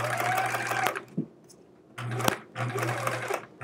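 Sewing machine stitching quilt fabric in two close, steady whirring runs, broken by a pause with small clicks and a brief thump.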